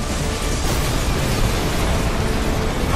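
Air raid explosions in the video game EDF 2025 during a fortress siege, a dense, continuous roar of overlapping blasts and rumble filling the whole stretch at high loudness.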